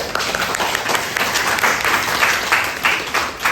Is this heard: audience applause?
yes